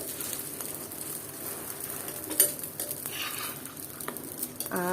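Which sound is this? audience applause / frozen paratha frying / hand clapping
frozen paratha frying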